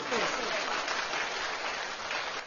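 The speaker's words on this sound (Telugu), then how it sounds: "కొట్టండి చప్పట్లు" An audience claps continuously at a devotional gathering in Nellore, a dense, fairly loud wash of applause that holds steady for a couple of seconds.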